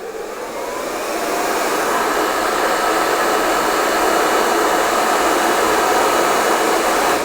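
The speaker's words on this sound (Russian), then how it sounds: "Ставите фен в корень и включаете его." A hair dryer blows loudly and steadily, its whooshing roar building within the first second and then holding constant.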